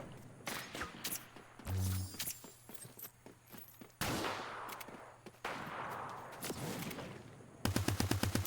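Gunfire in a Fortnite duos match, with scattered single shots and rapid bursts amid footsteps and game effects, ending in a fast, loud rhythmic volley of automatic fire.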